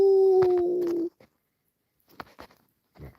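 A person imitates a high-pitched coyote howl at a fireside: one sustained, loud, falling wail that cuts off abruptly, then faint scattered sounds.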